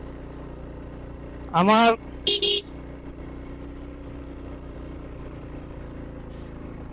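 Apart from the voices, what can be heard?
vehicle engine pulling in second gear on hill road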